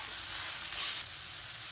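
Tomatoes and onions sauté in a pan with salt for a spicy horse gram chutney, giving a steady, close sizzle with a soft stirring rustle and no talking.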